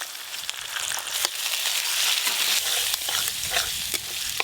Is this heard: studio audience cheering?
no